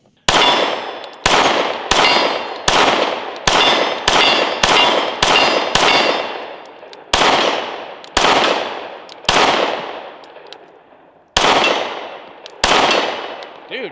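A Kiger 9mm pistol is fired at an outdoor range, with fourteen loud, sharp shots and ringing decay, first in a quick, even string and then in slower spaced pairs and singles.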